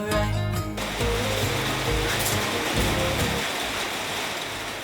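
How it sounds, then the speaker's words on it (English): Heavy rain drums steadily on the tin roof of a shed during a Luton van conversion laminate flooring job, a loud, dense wash of noise that holds for the whole stretch after a brief quieter opening. "It's just started pouring down the rain and we're in a tin shed."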